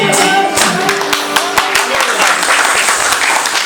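Loud, steady applause from an audience after a song performance, dense clapping filling the whole stretch with a few sharper individual claps standing out.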